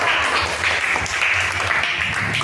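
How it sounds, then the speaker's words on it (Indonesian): A classroom full of people claps together in a dense, steady burst of applause, close and continuous throughout. "beri tepuk tangan untuk kelompok 2"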